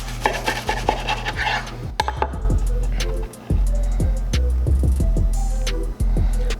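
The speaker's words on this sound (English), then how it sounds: "Now all that's left is to cut into the mandatory triangle shape." A knife slices through a toasted homemade peanut butter and jelly sandwich into triangles, crisp crunching cuts and sharp clicks of the blade against a plate or board, loud and close with brief pauses between strokes.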